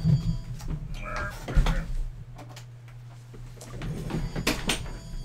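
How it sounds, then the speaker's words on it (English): A door is pushed shut indoors with a single muffled thud, followed by quiet room noise and a few light knocks and rattles; no one speaks. "Let me close the door."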